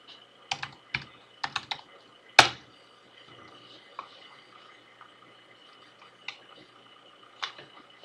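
Typing a domain name on a computer keyboard, with crisp, close key clicks coming in a quick cluster, one louder strike, then sparse individual taps spaced out over a quiet background.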